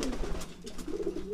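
Soft, low cooing from a young squab pigeon being trained in a small pigeon arena, a murmuring coo repeated steadily over a faint background hum.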